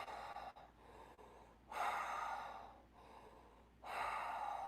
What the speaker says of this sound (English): Let's take a few breaths into the hands.